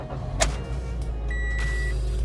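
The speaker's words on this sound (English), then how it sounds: "So I'm gonna start the car." An 11th-generation Toyota Corolla starts up: a brief whirring crank, then the engine catches and settles into a steady, close, low hum, with no talking.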